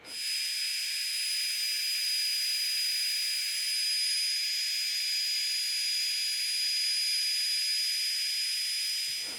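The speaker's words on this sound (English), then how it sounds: "Speaking of the fan, it is really loud." Small high-RPM cooling fan built into a Walksnail GT2 2-watt FPV video transmitter, giving a loud, steady high-pitched whine and hiss that runs unbroken and close up for the whole stretch.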